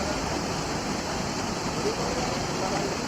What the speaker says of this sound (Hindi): काफी तेज बहाव पानी का